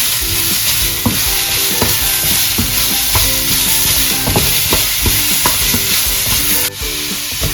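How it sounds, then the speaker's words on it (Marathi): Grated carrot frying in hot ghee for carrot halwa, a loud steady sizzle with repeated scraping stirs of a spoon against the pan, close up and with no voices. "जो किसलेला आहे गाजर तो मी याच्यात टाकतो। आपण हा चांगला आता तुपामध्ये परतून घेऊया।"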